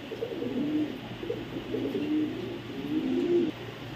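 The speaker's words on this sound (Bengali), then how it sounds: "এখানে দেখাবো আরেক পেয়ার কবুতর" Red checker pied racing pigeons coo softly and repeatedly nearby, with low rolling calls rising and falling over a faint background hum.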